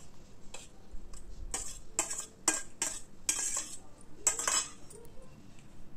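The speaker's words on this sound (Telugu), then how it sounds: "ఒక 2 నిమిషాల పాటు దంచుకోవాలి." Roasted eggplant pulp being pounded in a mortar for pachadi, heard as a series of close, crisp thuds and clacks of the pestle coming in irregular bursts over a quiet background.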